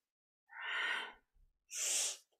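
Two forceful, breathy blasts of air, spaced about a second apart, come from kundalini yoga breathing done for the lungs. They sound close and loud, with brief silence before, between and after.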